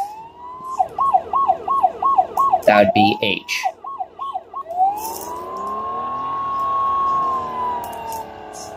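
A police siren in the video game Flashing Lights yelps in a rapid warbling pattern, briefly interrupted by a voice and a horn blast, then shifts into a long, slow wailing tone.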